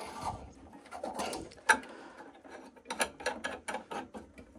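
Metal spanner working the top nut on an Ideal Logic boiler sump, giving a series of close ratcheting clicks and taps in irregular bursts with one sharp knock.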